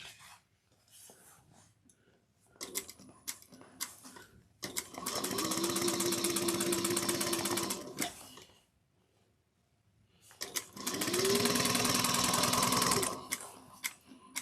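A sewing machine stitches a seam on a Hope Bag, running in two sustained loud bursts of rapid mechanical whirring separated by a pause, with light handling noises before.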